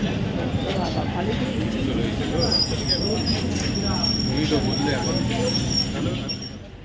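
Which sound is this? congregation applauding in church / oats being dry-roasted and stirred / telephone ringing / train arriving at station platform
train arriving at station platform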